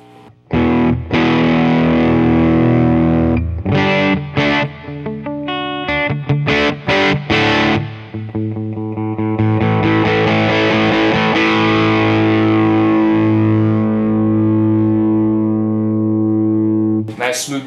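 Electric guitar through a ToadWorks John Bull British overdrive pedal at low gain plays chords and single notes, some choppy strums then sustained ringing notes with smooth decay, loud and close, no talking.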